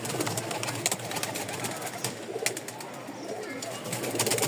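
Domestic flying pigeons of the giribaz and tumbler type, kept for sale in Mirpur, Dhaka, coo softly and intermittently amid busy background noise and faint voices.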